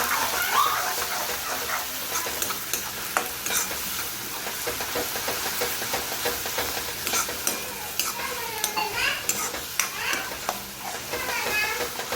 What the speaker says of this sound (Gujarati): રઈ નાખી, રઈ તતરી ગઈ.